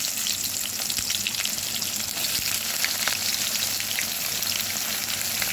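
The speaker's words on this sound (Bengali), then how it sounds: "এবার আমি পেঁয়াজগুলো দিয়ে দেব।" Onions frying in hot oil tempered with bay leaf and whole cumin, for pea pulao: a loud, steady, close sizzle with small crackles throughout and no talking.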